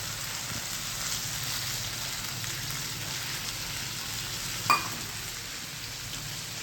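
Garlic is tempered in hot oil for a Gujarati vegetable dish, giving a faint, steady sizzle that holds evenly throughout with one brief clink partway and no voices.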